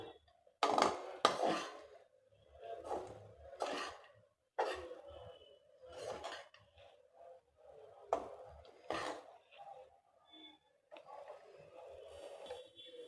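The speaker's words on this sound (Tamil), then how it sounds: "இப்போ நல்லா கலந்து விட்டுறலாம்" A spoon stirs lemon rice with turmeric in a pot, giving repeated close scraping and clinking strokes in an irregular rhythm, with no one talking.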